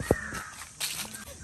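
A crow caws once on a farm in Gorkha, a short sharp call at the start followed by faint rustling and footsteps nearby.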